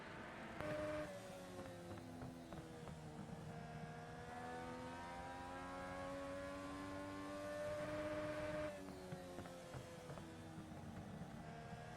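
A Legend race car engine drones at high revs around Lanier Speedway, its harmonic whine rising and falling slightly with shifts and corners, steady and fairly close, with no talking.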